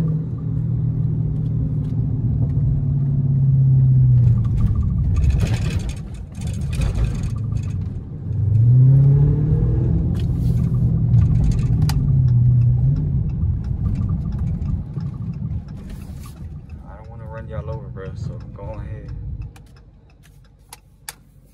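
Dodge SRT car cruising through downtown streets, a deep engine rumble that swells twice as it revs, then settles into a steady low cruise and fades quieter near the end.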